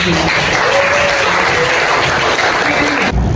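Loud, close applause from a room of people in a classroom or seminar, a steady burst of clapping lasting about three seconds before cutting off abruptly.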